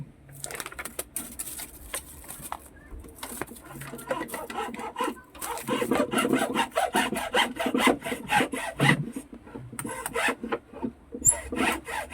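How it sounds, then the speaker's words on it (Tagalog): A hand saw cuts through wood while a dustpan is being repaired, giving rhythmic rasping back-and-forth strokes that come in bursts with short pauses, close and moderately loud. "Sabi lagarin natin."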